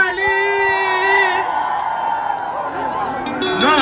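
A crowd at a live music show with an MC cheers and whoops for an announced performer, with loud sustained shouting and a prominent nearby voice, then a raised yelling swell at the end.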